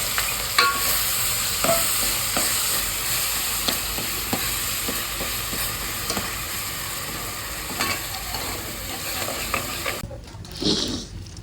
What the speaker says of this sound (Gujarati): ખોડેલો મસાલો હવે નાખી દીધો વઘારની અંદર ડુંગળીનો પેસ્ટ પણ નાખી દીધો